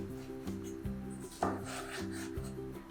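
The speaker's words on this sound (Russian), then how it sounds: "И я нарезаю один болгарский перец вот такими вот ломтиками." A knife slicing a bell pepper into strips on a wooden cutting board, with repeated rasping cuts and soft knocks against the board in a steady rhythm, close and fairly quiet.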